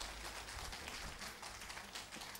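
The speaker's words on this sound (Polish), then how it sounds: "Brawa dla niego." Applause at an evening concert in a church, honoring a young musician: a steady, faint patter of many hands clapping at a distance, continuous and even throughout.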